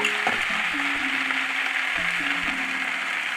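Kalmi shak (water spinach) mixed with drumstick leaves fries in a pan, giving a continuous loud sizzle broken by occasional scraping stirs of the greens.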